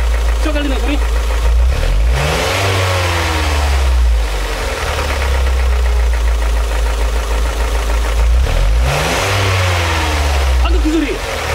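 A Hyundai NF Sonata engine with an internal fault revs hard and loud, rising and falling twice with a metallic rattle running through it, while someone speaks over the engine noise.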